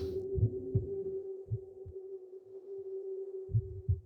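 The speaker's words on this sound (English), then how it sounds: "one of those sound effects is just like a beating of a heart in the background" A low heartbeat sound effect throbs in the strategy game Spellcross, paired thumps repeating in a slow, irregular rhythm over a steady droning hum, muffled and close with no speech.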